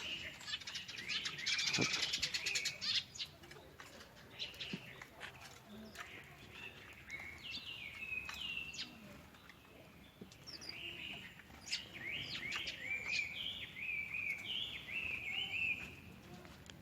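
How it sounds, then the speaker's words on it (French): Birds coming to feed near temples in Kamakura, Japan, a burst of wing flapping followed by scattered chirps and tweets at moderate distance, with a brief spoken word partway through. "On peut observer les oiseaux ici. Ils viennent se nourrir."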